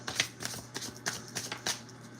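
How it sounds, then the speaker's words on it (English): A deck of tarot cards is shuffled close by, giving a quick series of papery flutters and slaps in an uneven rhythm, about eight bursts in two seconds, with no talking. "I'm shuffling the cards, guys."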